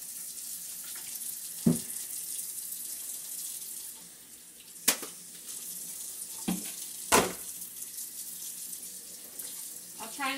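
Hot water runs from a tap over a block of ice as a homemade ice sculpture is shaped, giving a steady close hiss and splash with a few sharp knocks and clatters along the way.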